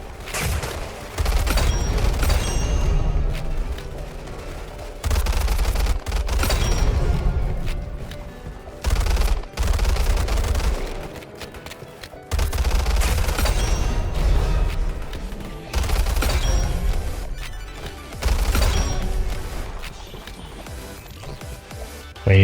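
SMG fire in the video game Weird Gun Game comes as repeated loud bursts of rapid shots, each a few seconds long, with brief gaps between them.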